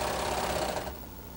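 A Baby Lock Imagine serger stitches lightweight fabric in a steady, close, fast mechanical whir that runs evenly, then eases off and softens near the end, with no talking.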